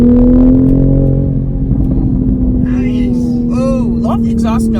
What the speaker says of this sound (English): There is a burbly exhaust note